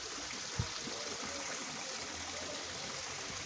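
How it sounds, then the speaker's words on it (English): Running mountain stream in the Black Forest botanical garden in Germany, a steady broadband rush of flowing water heard close and continuous, with one brief low bump near the start. "here is uh, running water from the mountain look here"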